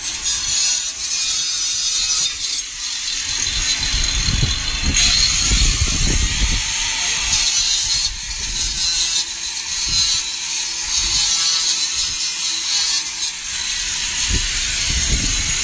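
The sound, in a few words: wire mesh being cut with a jig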